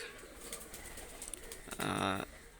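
Pakistani high-flyer pigeons in a loft give a brief, faint coo near the end amid quiet background chatter and rustling.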